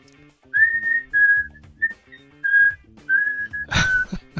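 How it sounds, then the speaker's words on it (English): A person whistles a clear, bright tune in a string of held notes with short pauses, close and fairly loud, ending with a breathy burst. "Whistle it nice and loud."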